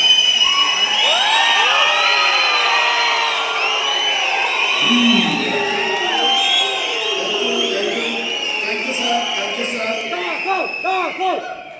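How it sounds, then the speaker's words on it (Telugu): An audience at a speech event whistles loudly, with many overlapping, swooping whistles mixed with cheering, shouts and scattered clapping that continue throughout. "విజిల్ వేయడానికి వచ్చిన వాళ్ళు విజిల్ కొట్టండి, క్లాప్స్ కొట్టడానికి వచ్చిన వాళ్ళు క్లాప్."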